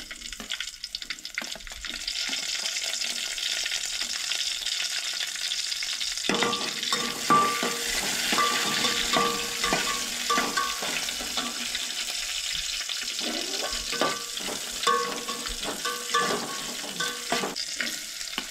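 Chillies fry in hot oil as the base for a Goan dry prawn curry, a continuous crackling sizzle that grows busier partway through, with stirring clatter and no speech.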